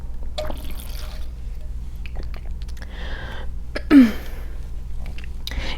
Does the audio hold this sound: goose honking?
no